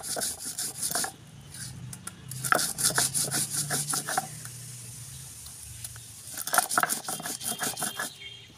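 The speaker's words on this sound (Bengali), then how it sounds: "এরপর দেখো এই শিলটার মধ্যেই আমি সর্ষে আর কাঁচা লঙ্কাটাকে ভালো করে বেটে নেব।" Mustard seeds and green chillies are crushed on a flat stone slab with a stone grinder. Close, rhythmic gritty scraping and rubbing strokes repeat steadily with a few brief pauses.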